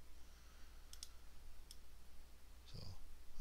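A computer mouse gives a few faint, quick clicks, spaced irregularly over a low steady hum, with a brief soft rustle near the end.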